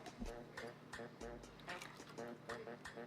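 A cocktail poured out of a cocktail shaker at a bar, with liquid splashing and ice shifting under steady talk throughout.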